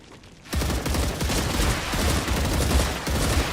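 Rapid sustained gunfire in the video game StarRupture, a dense burst of shots that starts abruptly and rattles on without pause, loud and close.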